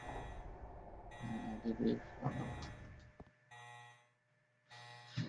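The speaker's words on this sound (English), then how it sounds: "You get to listen to that lovely chime every time we pass through here." A bright electronic chime from a shutter card reader in Resident Evil Code: Veronica rings out over a steady hum and background game noise, followed by quieter ambience.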